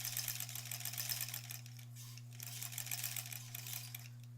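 Sewing machine stitching the seams of a quilt block, a quiet, rapid mechanical needle chatter running steadily throughout over a low motor hum.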